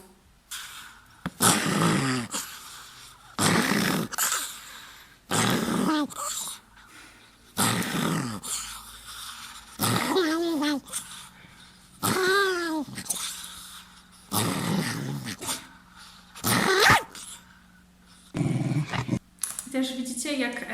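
A dog growls and snarls in repeated bursts separated by short pauses, with a person talking in between.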